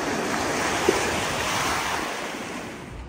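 Sea waves wash continuously onto a beach in Crete, a loud, steady surf roar with wind buffeting the microphone and no voices.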